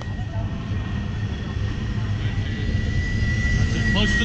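A keirin pacing motorbike drones steadily on a cycling track, a loud continuous engine hum with a sustained whine over it that builds slightly toward the end.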